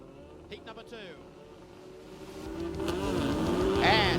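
Nissan Skyline GT-R R32 race cars launch off a starting grid, their engines swelling from a low rumble into a loud, rising roar over a few seconds, with a commentator's voice running over the top.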